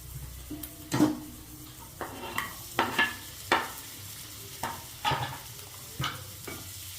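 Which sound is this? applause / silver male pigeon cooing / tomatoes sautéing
tomatoes sautéing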